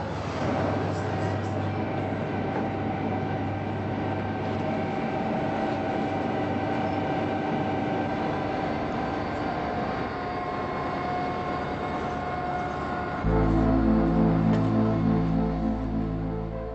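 An Irish intercity train runs steadily with a continuous rumbling rail roar and wheel noise, then near the end shifts to a louder, deeper tonal drone, probably heard from inside a carriage.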